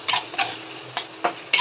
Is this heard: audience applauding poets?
no